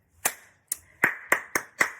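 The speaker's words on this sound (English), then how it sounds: "clap hands for me" Six separate, sharp hand claps ring out with uneven spacing, each a crisp close snap with a short decay and near silence between them.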